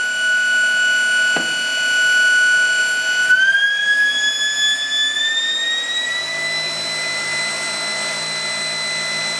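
An aircraft DC starter-generator spinning up on a test stand, a loud steady electric whine that holds a pitch, then climbs in stages as the field is reduced and the speed rises toward about 3,000 RPM.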